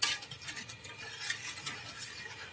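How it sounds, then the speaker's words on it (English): Liquid being stirred in a metal pot over heat, with soft swishing and scraping strokes that stay quiet and close, and no voices. "A little bit of stirring."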